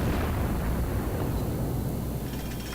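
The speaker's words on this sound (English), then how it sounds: "that's our friendly carrier sending in an airstrike, and he landed a couple right on." Airstrike bombs from a friendly aircraft carrier exploding around ships in the World of Warships naval battle game, a sustained loud rumbling blast wash that rolls on without let-up for the whole stretch.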